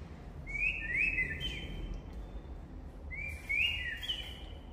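A pet cage bird gives two bright chirping trills, each rising and falling warble about a second long, heard alone and fairly faint against a low room hum.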